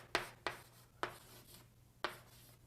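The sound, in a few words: writing out a calculus expression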